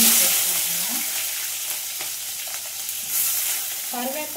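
Onions and curry leaves sizzle and crackle in hot oil in a pan while being stirred for a fish curry with okra, a steady close frying hiss with a few scraping stirs.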